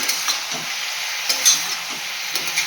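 Green chilies and black cumin seeds fry in hot oil, giving a loud continuous hiss with scattered sharp pops and spits and no talking.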